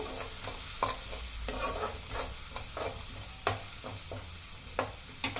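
Dried coconut powder frying in a pan for a raw banana curry, with a steady close sizzle and a string of sharp spoon-scraping strokes as it is stirred; no one speaks.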